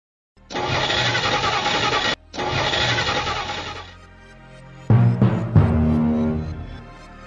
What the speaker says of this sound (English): The engine died and we're stranded in the middle of a desert.